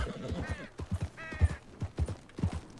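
Horse hooves clip-clop in rhythmic pairs in Red Dead Redemption II, fairly close, with a brief whinny-like tone mid-clip over a low rumbling background.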